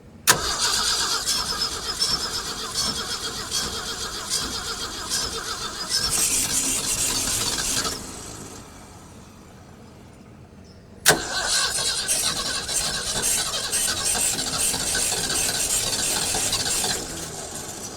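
An old abandoned farm truck cranks with the choke closed, a loud continuous churning starter grind for several seconds, a brief drop to quieter rumbling, then another long cranking burst.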